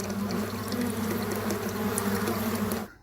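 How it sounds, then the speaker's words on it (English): Thousands of bees buzzing around a summertime water source, a dense steady drone close by that holds evenly and then cuts off abruptly at the end. "summertime, this is where the bees comes, and I have thousands of bees come here"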